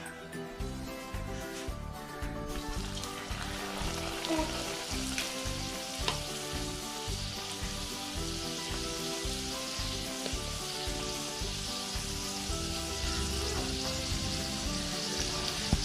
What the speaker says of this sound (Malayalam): ഇനി നമുക്കിത് പൊരിച്ചെടുക്കാം. നമ്മൾ എണ്ണ ചൂടായിട്ടുണ്ട്, നമുക്ക് ഇതിലോട്ട് ഇട്ട് കൊടുക്കാം